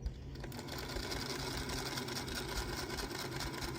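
A sewing machine stitches a seam on a 5-inch quilt block, running as a continuous close, even mechanical whir without pauses or talk.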